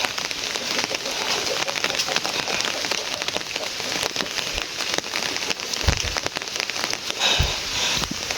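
Light rain falling on a house in a village, a steady patter with scattered louder drips and a few low thumps near the end.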